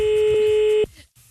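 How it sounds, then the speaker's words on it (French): A telephone ringing tone of a call sounds as a single steady, loud electronic tone lasting under a second, then cuts off abruptly into near silence. "mon téléphone vient de sonner"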